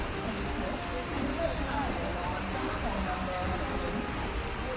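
Heavy early monsoon rain in Mumbai, a steady dense wash of rainfall hissing on surfaces throughout, with a faint murmur of distant voices underneath.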